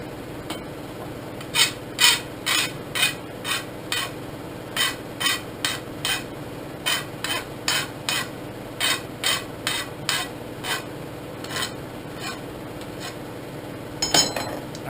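Steel tubing for a welded railing is deburred after cutting, with a steady series of short, scraping file strokes in an even rhythm, close and moderately loud, with no talking.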